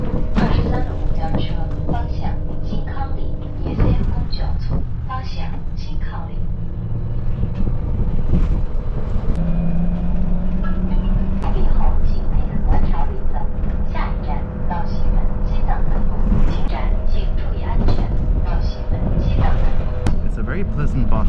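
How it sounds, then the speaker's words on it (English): Shanghai city bus ride with the windows open, a steady broadband rumble of engine and road noise with street sounds drifting in, people talking over it throughout. "It's a very pleasant bus. The windows are open, but there's also aircon"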